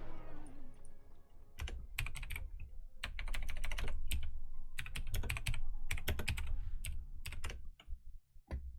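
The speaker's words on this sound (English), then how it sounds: "I don't know why I have trouble typing sometimes" Computer keyboard typing during a Dota 2 game session, close and crisp, with bursts of rapid clicking keystrokes separated by short pauses.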